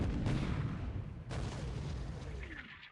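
A torpedo striking a warship in a World War II Pacific naval strategy game, heard as two loud, close, rumbling booms that roll and decay, with a faint high tone rising near the end.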